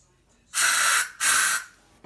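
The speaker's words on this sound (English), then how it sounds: "Now I've sprayed the spider" Two short, close bursts of aerosol fly spray hiss loudly at a house spider in a room corner, the second following right after the first.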